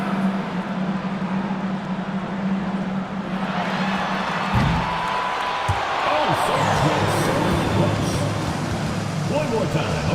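A crowd at a basketball game applauds and cheers in a steady wash of noise, with a low hum and an announcer's voice over it.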